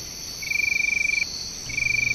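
A flying squirrel calling at night, two high, rapid pulsing trills, the first about three-quarters of a second long and the second starting just after a short pause, over a faint steady insect-like hiss.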